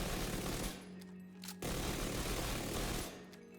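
Extremely rapid automatic gunfire from a high rate-of-fire weapon in The Division 2, heard as two long dense bursts separated by a brief pause, loud and close.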